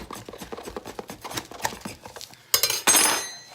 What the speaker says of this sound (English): You get a knife and kind of stab at it.